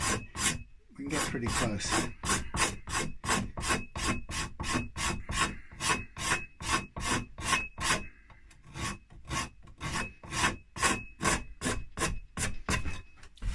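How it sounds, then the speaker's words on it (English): Scraper rasping across the wood of an already-painted guitar body, repeated rhythmic strokes at close range, steady and evenly spaced throughout, with a brief bit of speech near the start. "So a little bit more scraping to do just to get past the line"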